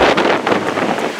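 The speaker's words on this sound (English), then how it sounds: "It's very windy back here now." Strong wind buffets the microphone on the open deck of the Norwegian Jewel cruise ship, a loud, rough gusting roar lasting about a second with no voices.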